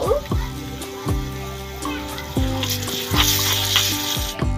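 Spices sizzle in a miniature toy cooking pot, a steady crackling fry broken by a few sharp clinks of a utensil against the pot, close and fairly loud.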